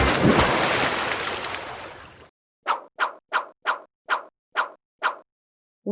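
Splash of falling into water through broken ice, a loud rushing crash that fades out, followed by seven short, evenly spaced sloshing hits against silence.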